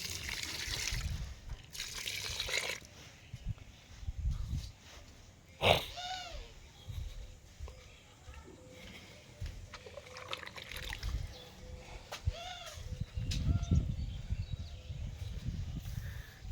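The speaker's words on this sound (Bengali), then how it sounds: "এই দেখো ফুল গাছের গোড়ায় দিচ্ছি জল" Water from soaked mustard cake is poured around the bases of flower plants in a roof garden, with soft intermittent splashes and trickles, fairly faint, plus occasional small knocks.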